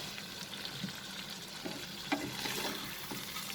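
Chicken roast sizzles softly in a pan as it is stirred, with a continuous low frying hiss and a few light scrapes and taps of the spoon, fairly quiet and close, with no talking.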